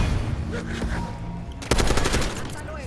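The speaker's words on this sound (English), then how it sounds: "I was trying to shoot that zombie with one hand" Rapid automatic gunfire from the Black Ops 6 video game aimed at a zombie, a dense burst of shots that gets louder about halfway through over a steady game soundscape.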